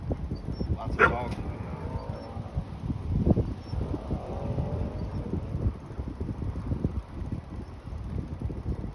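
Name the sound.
dogs barking at a homeless encampment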